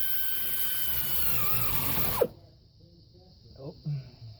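Pneumatic air ratchet working on the starter of a Dodge D250 Cummins, a loud high-pitched whir that runs for about two seconds and cuts off abruptly, followed by quieter handling clunks and brief knocks.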